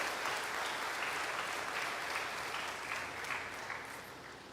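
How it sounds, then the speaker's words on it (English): Sustained applause from the audience at a university convocation ceremony, a broad, even wash of clapping from a large crowd heard at a distance and fairly faint, fading slightly toward the end. "Please give a tremendous round of appreciation and applause."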